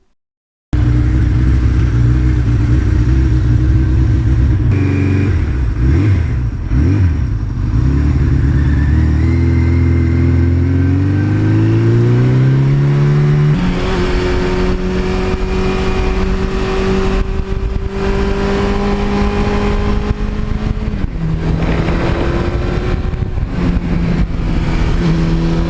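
A Suzuki GS1100E motorcycle engine runs loud and close, idling then revving in several rising surges with gear changes as it pulls away, a continuous throaty roar with no talking.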